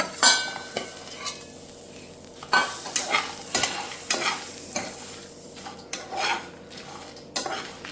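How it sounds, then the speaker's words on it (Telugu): Sesame seeds and fresh coconut, fried for a broad bean stir-fry, are stirred in a pan, giving repeated close metal scrapes and taps over a low sizzle. "నువ్వులు కూడా వేగిపోయిన తర్వాత ఇందులో కొబ్బరి వేసుకోవాలి."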